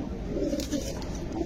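Caged Indian Benares pigeons coo softly in a low, murmuring run, faint and close in a short snippet with no voices.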